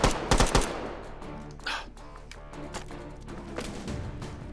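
Rapid gunfire bursts from the VR shooter H3VR, in its Take & Hold mode with destructible cover: a loud cluster of close shots up front, then scattered quieter shots and clatter.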